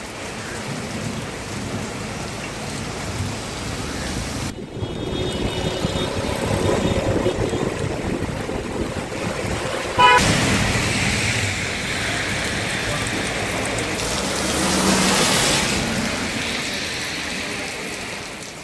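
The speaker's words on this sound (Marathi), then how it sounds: "साताऱ्यात मुसळधार पाऊस बरसताना पाहायला मिळतोय" Torrential downpour lashes Satara with a loud, unbroken roar of rain, punctuated by rumbling thunder-like surges and a sharp knock partway through, swelling again toward the end.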